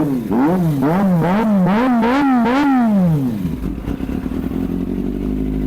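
A 2021 Kawasaki ZX25R SE sport motorcycle revs hard in a series of rising and falling high-pitched wails, about six quick blips climbing to a sharp scream, then settles into a steady idle, loud and close with no talk.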